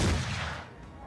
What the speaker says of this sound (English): So we're going to take our shots on the red ogre.